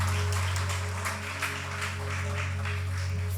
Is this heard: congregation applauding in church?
yes